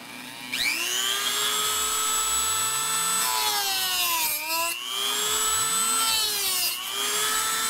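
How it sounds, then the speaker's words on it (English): A Dremel rotary tool cutting a groove in a fiberglass model airplane part: a steady, close, high-pitched whine running the whole time, its pitch sagging briefly twice as the bit loads into the material and then recovering. "So let me get my Dremel out."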